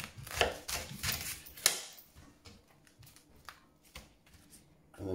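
A knife cuts big leeks on a meat board with a few sharp, close chops followed by lighter, scattered cuts and soft taps, fading between strokes.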